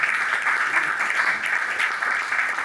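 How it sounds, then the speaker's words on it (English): An audience at an African arts festival claps continuously, with dense, steady applause from many hands sounding fairly close and sustained throughout. "I want to hear the clap."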